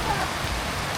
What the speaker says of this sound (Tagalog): Kasi malakas ang ulan.